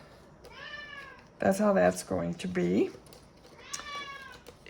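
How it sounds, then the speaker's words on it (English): A hungry cat meows in the background, once before and once after a person speaks. The meows are moderately loud and drawn out. "you can hear my cat in the background."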